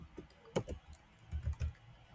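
A computer keyboard is typed on during a probability lecture: a short burst of quick, close key clicks, irregular and uneven in loudness, with no talking.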